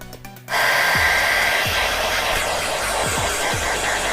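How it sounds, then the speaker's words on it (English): A hair dryer switches on abruptly and runs with a loud, steady whooshing roar close by, drying hair at a campsite in Scotland with no talk over it. "While Brooke's drying her hair"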